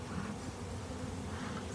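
Honeybees buzzing on a hive frame, a faint continuous drone of many insects with no voices.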